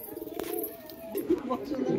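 A green mehedi pigeon coos softly in a few brief, low throaty calls, close by and fairly quiet, with a voice speaking around it.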